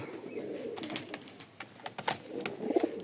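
Male Rajshahi Giribaz pigeon, newly moved to a new loft, gives soft, close cooing notes in a short low series, faint over quiet room noise.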